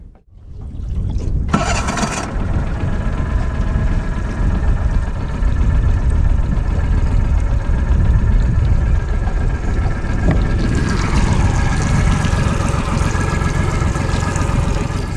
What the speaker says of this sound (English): the donk, the old motor. It's a 40 horsepower Yamaha 4-stroke